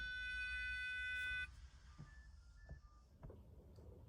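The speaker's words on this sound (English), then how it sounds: "That's the alarm you'll get when battery safety is on." A steady high electronic alarm tone from a sailboat's lithium battery safety system sounds for over a second and then cuts off, leaving a low hum with a few faint clicks.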